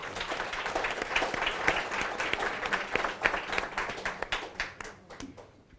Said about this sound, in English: Again, a round of applause to Lile, Miriam, Kellen, as well as Muzi.